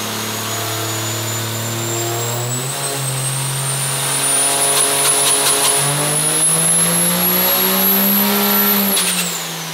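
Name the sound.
pickup truck with add-on turbo revving on a dyno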